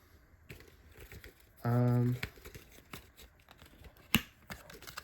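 Plastic packaging of a Mega Construx Pokémon set being opened and crinkled nearby, scattered crackles and a sharp snap, with a brief tone and a voice talking over it.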